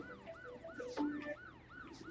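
A police car siren wails with repeated rising-falling sweeps in the Wobbly Life video game, loud and close, with other game sounds layered briefly in the middle.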